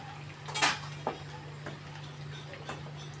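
A utensil stirs shrimp around a cooking pan in a few light metallic clinks and scrapes, the loudest early on, over a steady low hum in a quiet kitchen.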